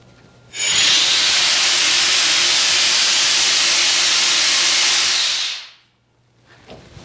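Compressed air from a newly set up garage air system blasting out in a loud, steady hiss for about five seconds before cutting off, followed by quiet room noise.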